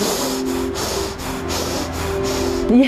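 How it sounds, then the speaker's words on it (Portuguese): One person demonstrates short, stressed breathing, a run of quick, close, rhythmic breaths with no talk. "A pessoa estressada, ela vai fazer a respiração curta, que é essa aqui."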